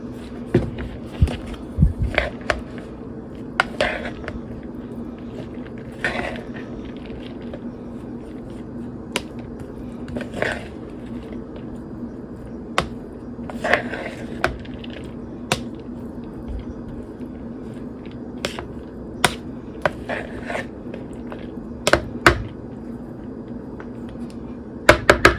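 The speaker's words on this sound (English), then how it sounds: "Actually, I think I'll stir this first." A utensil stirring quinoa salad in a bowl makes scattered light clicks and taps against a steady low hum, with no talking.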